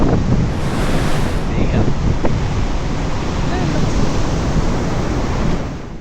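Loud, continuous crash and roar of ocean surf at Baler, heavily buffeted by wind noise on the microphone.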